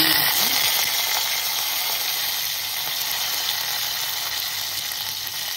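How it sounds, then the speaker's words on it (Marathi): Mustard seeds and curry leaves sizzle in hot oil in a home kitchen while making kanda pohe, a loud, dense crackling fry that holds steady and eases slightly. "तेलामध्ये राई टाकूया। आता कढीपत्ता"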